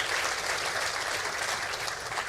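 An audience claps continuously, a broad even burst of applause filling the moment with no voices on top.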